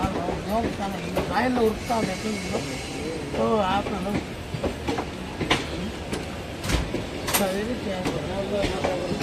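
An express mail train pulls out of Ernakulam Town railway station, with steady rolling rumble and occasional clanks under nearby voices talking throughout.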